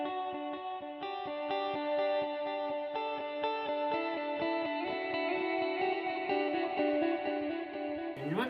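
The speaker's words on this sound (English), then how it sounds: "We got a plate reverb with a digital delay." An electric guitar plays sustained notes and chords drenched in lush plate reverb, with digital delay repeats trailing each phrase, from a Disaster Area Designs DMC 3XL Gen 3 pedalboard.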